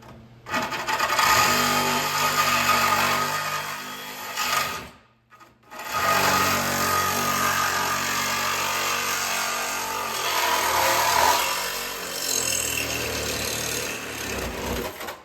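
A power tool grinds steadily through a rusty Pontiac Fiero frame rail, loud and close, with a brief cutoff partway before the harsh buzzing cutting resumes and runs on.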